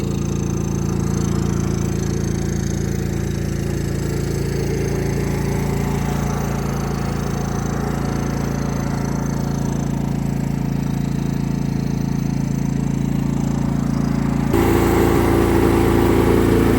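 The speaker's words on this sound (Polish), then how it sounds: "To jest agregat oczywiście 4 kW." A KS 4000iEG S dual-fuel 4 kW generator runs under load with a steady, loud, droning engine hum and no let-up, its tone shifting slightly near the end.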